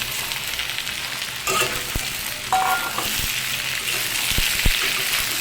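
Steady sizzling of potatoes and yardlong beans frying in a pan, with a few sharp clicks and a stirring clatter partway through; no voices.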